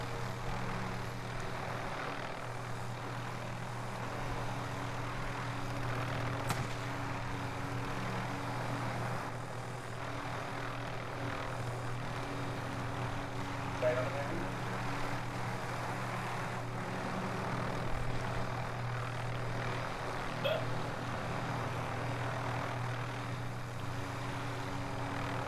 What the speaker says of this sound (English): Helicopter here.